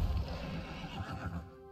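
A horse in a video game gives a short, fairly quiet neigh with a rumbling low body, brief and isolated.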